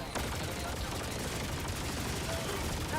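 Rapid video game gunfire rattling in dense bursts, loud and continuous, with faint voices underneath.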